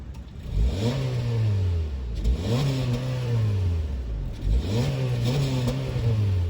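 A 2022 Honda HR-V's 1.8-liter four-cylinder VTEC engine revs up and falls back three times in a row, each rise climbing to a strained whine before dropping, loud and close.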